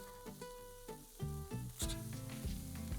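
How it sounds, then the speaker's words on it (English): Walleye fried rice with egg and mushrooms sizzles loudly in a pan while it is stirred, giving repeated scraping and mixing knocks over a steady frying hiss. "I'm going to mix everything together now."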